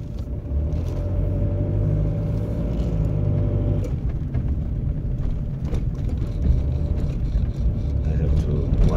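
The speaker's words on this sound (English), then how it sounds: "I have to watch for traffic here, small street." Traffic on a small street: a steady, low engine rumble from a nearby vehicle rolling past, fairly loud throughout, with a few clicks and knocks over it.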